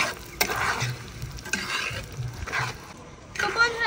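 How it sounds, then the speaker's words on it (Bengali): Green chilies drop into garlic frying in a pan, giving soft crackling sizzle bursts in a few separate waves with stirring scrapes between them, moderately close. "রসুনটা ভালোভাবে ভেজে নিয়েছি। তো এবার দিয়ে দেবো কাঁচা মরিচ।"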